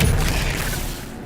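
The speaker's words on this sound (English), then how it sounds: "Expelliarmus!" Expelliarmus spell cast in Hogwarts Legacy, a short heavy magical boom with a bright crackling burst that fades quickly over about a second.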